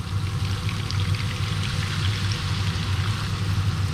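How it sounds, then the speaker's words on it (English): Water poured steadily into a cooking pot of spiced stew, a continuous close splashing stream lasting several seconds with no break. "So we add water"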